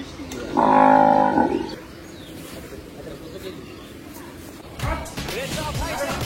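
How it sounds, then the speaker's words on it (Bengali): A cow lows once, loud and close, at a crowded Qurbani cattle market, with a low lingering call before market noise and distant voices take over. "আমরা এখন আমাদের ফার্স্ট গরুটা দেখতেছি।"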